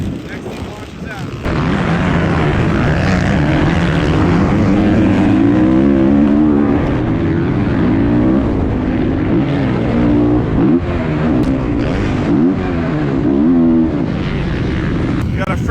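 Dirt bikes in a Surfercross tag-team race, with loud engines roaring after a short quieter lead-in and a dense, continuous revving drone of several machines close by.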